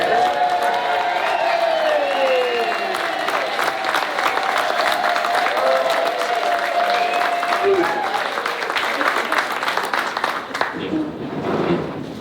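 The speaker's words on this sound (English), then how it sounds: "just clap, cheer, and make as much noise as you can" Wedding guests at The Red Barn Norfolk clapping and cheering together, a loud, dense burst of applause with whoops and shouts that holds steady before tapering off near the end.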